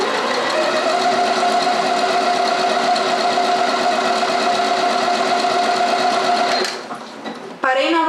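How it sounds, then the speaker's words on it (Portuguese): Janome 1030MX sewing machine stitching a buttonhole, a loud steady rapid motor whir and needle chatter running for about seven seconds before slowing and stopping, followed by a brief click. "A máquina vai fazer o final do caseado"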